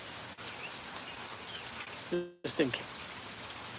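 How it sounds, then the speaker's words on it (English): Rain falling steadily and blowing in, a soft continuous patter with a brief gust-like dropout midway, while someone talks briefly over it. "the rain is blowing in here"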